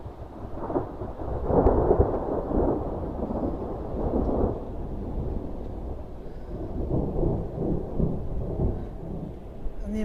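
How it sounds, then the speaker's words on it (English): Thunder from a storm moving away during pouring rain, a low rolling rumble that swells and fades in several long waves over a steady wash of rain, with no voices present. "the amount of time between the lightning and the thunder is getting longer, so it's definitely moving away."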